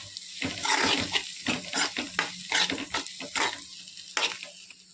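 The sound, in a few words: ginger garlic paste sizzling in oil while stir-frying fried rice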